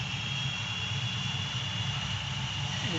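An F100 jet engine at full throttle in Gunship 3 gives a constant loud roar with a thin high whine running through it, steady from start to end.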